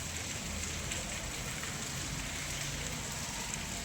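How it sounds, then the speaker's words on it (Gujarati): Gentle, steady rain falls in an even, close hiss on outdoor surfaces, soft and continuous with no voices. "ધીમી ધારે વરસાદ ચાલુ છે."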